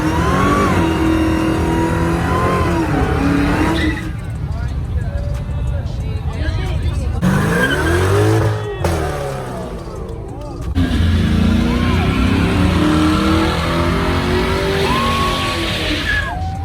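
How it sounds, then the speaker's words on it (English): A car engine revs hard and loud at a street car cruise, climbing and falling in repeated bursts, with tires squealing and voices shouting over it at times. "Car sounds really good."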